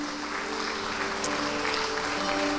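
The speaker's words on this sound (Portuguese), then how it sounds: "Dê uma salva de palmas bem forte ao Senhor." A congregation applauds during a morning worship service in a church, a steady wash of clapping that holds at an even level for the whole stretch, with no clear voices over it.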